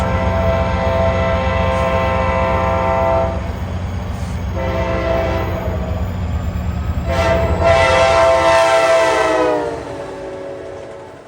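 An F40PH-3C diesel locomotive on a New Jersey commuter line passes close and loud with a steady engine rumble, sounding several long blasts of its multi-tone horn before the roar fades.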